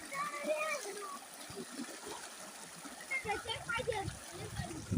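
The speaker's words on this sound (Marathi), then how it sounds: "पाण्याचा प्रवाह बघा" River water in flood splashes and gurgles along steadily in the background while children's voices chatter nearby.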